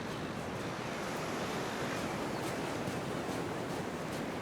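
Ocean surf breaking on a beach, a steady loud wash of wave noise with wind, constant throughout.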